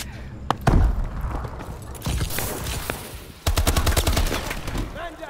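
Shotgun blasts in Call of Duty: Advanced Warfare, several loud, close booming shots with sharp onsets spaced a second or so apart, amid game noise and faint talk.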